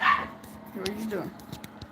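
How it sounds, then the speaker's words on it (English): A dog yips and barks a few times indoors, short sharp calls at moderate distance mixed in with people talking nearby. "why my dog barking like that?"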